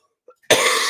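A single sharp, close cough bursts out after a moment of near silence, with a faint throat sound just before it.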